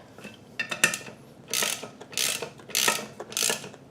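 Ratchet tightening the rear sprocket nuts on a 2001 Kawasaki Ninja 250, several short bursts of close clicking with uneven pauses between strokes.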